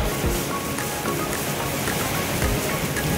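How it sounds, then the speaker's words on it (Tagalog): Heavy rain from Typhoon Opong pours steadily in a dense, continuous roar, drumming hard on nearby surfaces with no pauses. "Lakas ng ulan!"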